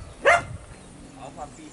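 One loud single bark from a dog at a hillside house in Jamaica, followed by a couple of fainter, more distant barks, with a voice nearby.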